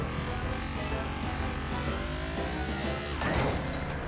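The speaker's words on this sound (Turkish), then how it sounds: "Drift ata ata iniyorum aşağıya." A car in the Roblox Hot Wheels open-world racing game drifts downhill with a steady loud engine roar, sliding tire noise, and a sudden harsher burst near the end.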